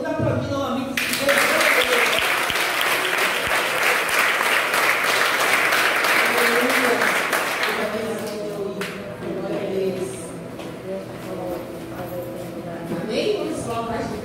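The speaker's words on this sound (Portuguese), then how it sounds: "Vamos aplaudir novamente." A church congregation at a Christmas celebration bursts into loud, dense applause for several seconds. The clapping then fades away as voices and softer sounds take over.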